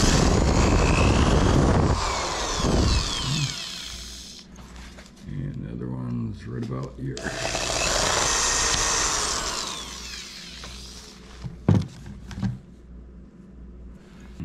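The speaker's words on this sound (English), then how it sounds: "Now that we have our hole drilled" A power drill whines loudly in two bursts, biting through material, with someone talking briefly between them.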